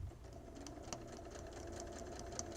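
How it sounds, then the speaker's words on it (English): A sewing machine runs down a side seam of a garment with an in-seam pocket, a quiet but steady rapid ticking of the needle with a soft motor hum underneath. "continue sewing down your side seam"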